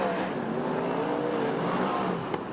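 Sprint cars race at Ventura speedway in California, giving a steady, loud, dense engine roar with a faint wavering pitch that fills the whole stretch without pause.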